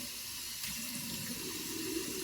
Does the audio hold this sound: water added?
yes